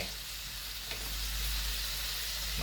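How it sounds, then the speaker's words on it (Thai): Chinese kale stir-frying in a pan with light soy sauce and seasoning powder: a steady, close, loud sizzle and hiss that runs throughout with no talk. "ผัดฝาเขียวซีอิ๊วขาว ผงปรุงรสนะครับ ลงไปผัดทีเดียวเลย"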